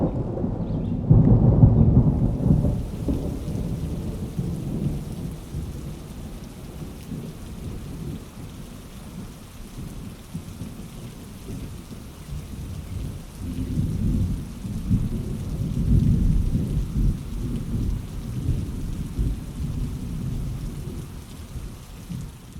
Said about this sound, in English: This is a DIY rain chamber system heavily inspired by Troy Goldberg's